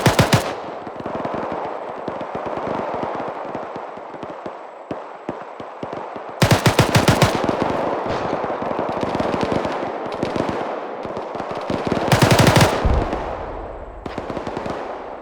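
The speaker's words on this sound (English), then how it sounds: "Gunfire you're hearing is 2-1 taking contact to the southwest" Sustained bursts of rapid automatic gunfire from the video game ArmA 3 rattle on almost without pause, with sharper, louder volleys cutting in over a constant crackle of shots.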